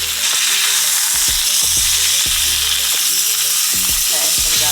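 Steak sears loudly in a hot pan, a dense continuous sizzle and crackle with repeated popping bursts of spattering fat, close and steady throughout.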